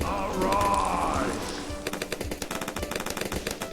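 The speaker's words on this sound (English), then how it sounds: "so let's get this laser cannon spraying at the balloons" A Dartling Gunner laser cannon in the tower-defense game Bloons TD 6 begins with a rising whirring charge-up, then breaks into a rapid, even stream of machine-gun-like shots.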